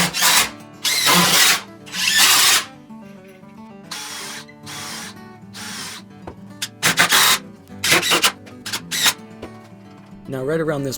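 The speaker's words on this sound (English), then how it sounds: "use that reference to drill a slightly oversized hole for the threaded rod" A power drill bores a slightly oversized hole for threaded rod in a wooden block on a homemade mill, with several short bursts of whining motor separated by pauses and handling clatter.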